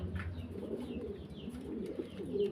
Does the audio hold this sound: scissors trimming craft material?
no